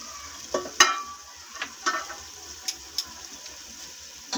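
Vegetables being sautéed in a pan for macaroni, with a light sizzle and a series of sharp scrapes and clinks from a stirring spoon at irregular intervals, close and moderately loud with no voices.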